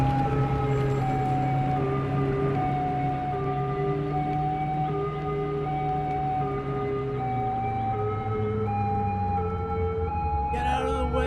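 Ambulance siren from the Cities: Skylines city-building game, a loud steady wailing tone with sliding harmonics held throughout, passing close by.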